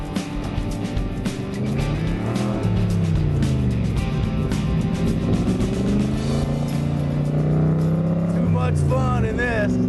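A car, seen in a Factory Five kit-car build, drives with its engine humming and shifting pitch as it accelerates and passes, steady and fairly close, while people talk over it.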